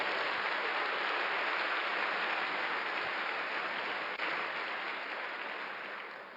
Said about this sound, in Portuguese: Dê um aplauso aí ao Senhor.